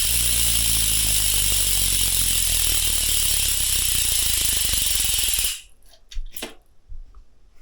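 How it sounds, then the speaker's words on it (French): A gravel bike wheel's freewheel buzzes in a loud, rapid, continuous ratcheting whir as it spins, then cuts off abruptly, leaving a few scattered clicks. "c'est le bruit de la roue libre"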